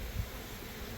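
Bees buzz inside an opened hive box while it is split into nucs, a faint, steady hum with an even texture that holds throughout, with no voices.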